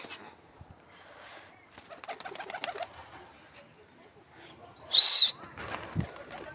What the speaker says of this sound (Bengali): এটা আমাদের দুটো পায়রা